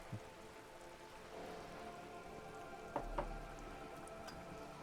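Rain falling in the video game Disco Elysium, a soft continuous patter and hiss with a couple of brief tapping drips, faint and steady throughout.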